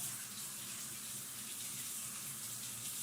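A tap runs steadily as a palette knife used for acrylic pouring paint is rinsed under it, a close, continuous hissing stream of water with no talking.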